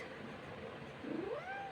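A single soft cat meow rises and falls near the end, heard faintly over a steady background hiss.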